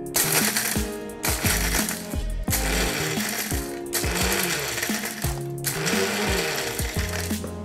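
A mixer grinder is pulsed on a coarse besan ladoo mixture, giving a run of short, loud motor bursts, each whirring up and then cutting off in a steady on-off rhythm, close by with no talk.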